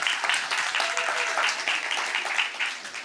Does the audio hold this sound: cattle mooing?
no